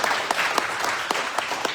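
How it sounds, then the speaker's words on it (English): Audience applause at a ceilidh evening, close, loud clapping with several sharp individual claps standing out above a busy patter of hands over a short burst. "that deserves a round of applause in itself"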